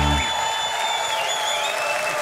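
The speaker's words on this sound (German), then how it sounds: "Applaus für" Sustained applause from a large audience fills the space, dense and steady clapping with a faint tonal hum behind it.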